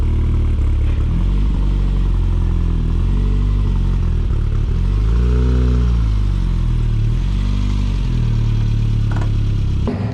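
Classic Mini Turbo being driven, a loud, steady engine drone from inside the car that rises and falls through gear changes and revs, with no talk.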